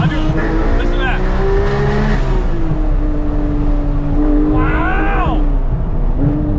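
A loud, close Porsche 911 GT3 Touring engine roars through rising revs with quick gear shifts, a sharp higher-pitched surge near the end, tires faintly squealing.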